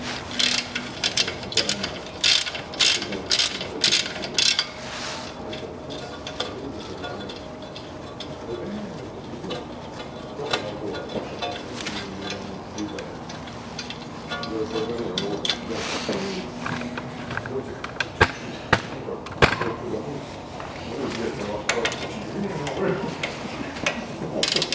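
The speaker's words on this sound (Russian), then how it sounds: "после этого мы уже открутим оба крепления стойки к цапфе" Ratchet wrench loosening a 17 mm strut-to-knuckle nut on a 2012 KIA Sportage 2.0 during front hub bearing replacement: rapid, loud, close ratchet clicking in bursts, then steadier working clatter.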